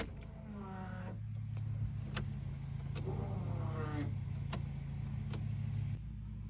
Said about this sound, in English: we gotta prime the fuel cell